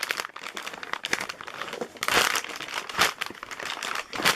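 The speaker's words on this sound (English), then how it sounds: "I cut through the package" A plastic package is cut open and crinkled close up, with irregular crackling and rustling bursts that peak in a couple of louder crumples, no speech.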